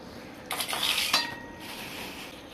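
Dishes and utensils clink and rattle close by in a home kitchen during washing, a short cluster of bright metallic knocks and chimes that fades into quiet background hiss.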